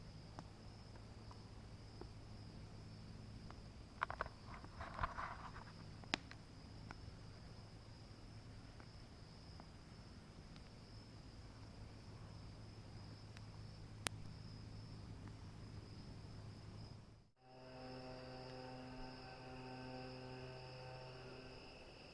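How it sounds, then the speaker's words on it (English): Crickets trill at night by a lake during solo camping, a faint steady chirping bed with a low hum, briefly broken by a dropout near the end. "just listening to the sounds, you know. Crickets"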